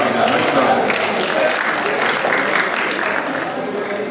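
An audience at a high school presentation on Martha's Vineyard applauds steadily, a dense wash of clapping from a sizable crowd that carries on for several seconds without letting up.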